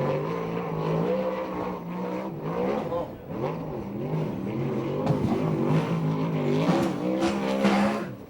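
A USAC/CRA sprint car races around a dirt track at Santa Maria, its engine droning and revving continuously at a distance while an announcer talks over it.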